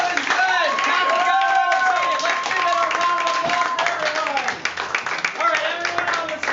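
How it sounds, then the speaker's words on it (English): Audience at a class show put on by an improv school gives a round of applause, steady clapping from a crowd mixed with cheers and whoops, loud and close, lasting throughout. "Let's give it a round of applause for everyone."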